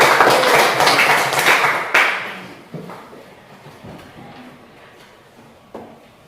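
A classroom group claps for the first presenting group in a teacher training session, a dense burst of hands for about two seconds that then thins into scattered, fading claps and a few isolated taps.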